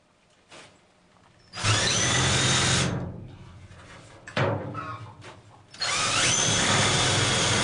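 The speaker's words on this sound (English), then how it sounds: "we'll drill through the shed and then we'll get the brackets fixed to the wall" A power drill bores through the wooden wall of a garden shed in two loud, sustained whirring runs with a short pause between them, preceded by a faint brief tap.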